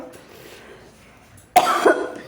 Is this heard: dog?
no